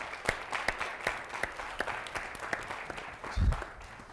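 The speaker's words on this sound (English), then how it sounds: "So let's give them all a round of applause." A round of audience applause at a university Black History Month forum, scattered distinct claps at moderate level, fairly sparse and somewhat distant, with a brief low thump near the end.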